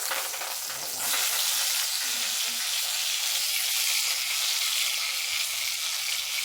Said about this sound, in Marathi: तेल तापले त्यामध्ये कढीपत्ता टाकला